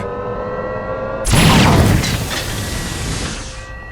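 A bridge blows up in the We Happy Few video game, a sudden loud roaring blast that swells in and then slowly rumbles away over a few seconds.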